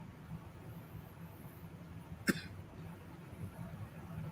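One short, sharp cough stands out once against a quiet background hum.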